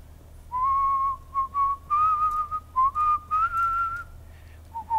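A person whistles the melody of a song during a quiz game in a taxi, a clear, close run of sustained and clipped notes over a low engine hum.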